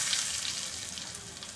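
Asafoetida sizzles in hot oil over a low flame while chana dal is being tempered, a close, soft crackling fry with small pops running throughout.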